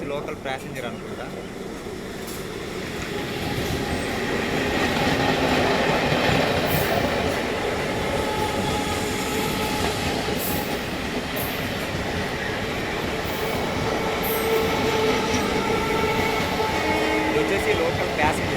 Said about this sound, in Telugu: ఇది వచ్చేసి లోకల్ ప్యాసింజర్, మొత్తం ఆపలే ఉంది, ఒక ఏసీ కూడా లేదు.